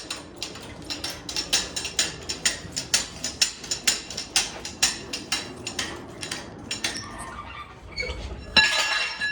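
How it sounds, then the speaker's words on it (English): Motor mount bolts sliding into the engine mounts of a 1993 Chevy OBS truck getting a 350 engine, a quick series of bright metallic clinks and taps, close, ending with a louder scrape. "let's see if we can slide some motor mount bolts through those"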